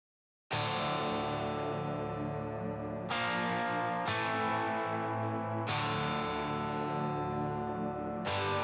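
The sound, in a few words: distorted electric guitar power chords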